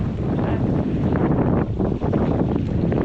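Strong wind roars steadily across a sailboat at sea as it turns hard into the wind under too much sail, a loud, continuous broadband rush with gusty fluctuations and no talking.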